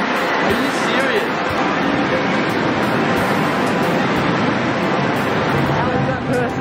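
A loud Japanese pachinko parlor fills the space with dense, continuous clattering of tiny metal balls and machine noise, a constant roar close around the listener.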